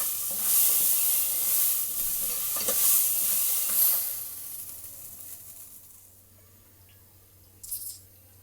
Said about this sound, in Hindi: हम इसको उस वक्त तक फ्राई करेंगे जब इसमें से खुशबू आने लगे